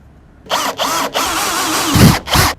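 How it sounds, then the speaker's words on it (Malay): A power drill boring screw holes to mount a solar charge controller whirs in about four short start-stop bursts, close and loud, with brief pauses between them. "mudahlah kita nak tanda dekat mana kita nak tebuk lubang, nak pasang skru untuk mounting solar charge controller ni"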